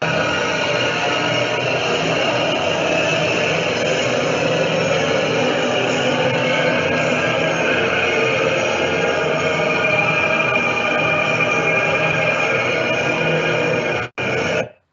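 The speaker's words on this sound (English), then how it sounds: "this is like the sound in the installation at the highest moment." Dense, sustained wall of layered sound recorded on a phone inside a church, from an installation of many vinyl records playing at once, steady and loud for about fourteen seconds before cutting off abruptly.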